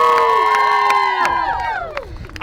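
A live rap-battle audience cheers, whoops and shouts in a loud, close burst, individual high voices rising and falling over the crowd noise before it thins out.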